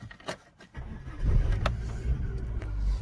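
A car engine cranks and catches, then settles into a steady low idle, heard close by outdoors with no talking.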